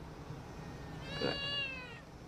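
A cat meows once, a drawn-out whiny call in the middle of the moment, moderately loud over steady low room noise.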